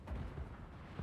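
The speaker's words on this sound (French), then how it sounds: "Son canon qui tire juste à travers les arbres." Cannon fire through trees in the Total War: Warhammer 3 video game, a short deep boom with rumbling low end lasting about a second, with a second thump near the end.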